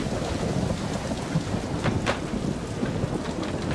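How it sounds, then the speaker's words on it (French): A storm sound effect of dense, hissing rain with low rolling thunder, loud and continuous throughout with brief brighter cracks near the middle. "Une tempête se lève."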